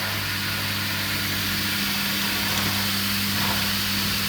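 An Indesit ISDP429 Autopump spin dryer spins at 2,800 RPM, giving a steady, loud motor whine and drum roar with a constant low hum that holds evenly throughout, no voices.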